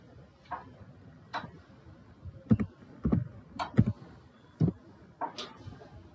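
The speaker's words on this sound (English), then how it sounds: "now here you can type like I will type here" Fingers tap out a short line on a computer keyboard in a quiet room, producing sparse, soft individual key clicks in uneven bursts.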